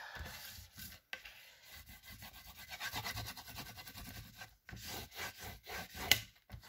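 Glued paper being smoothed down onto a photo album page, a soft close rubbing and brushing sound in repeated strokes with brief pauses and light taps.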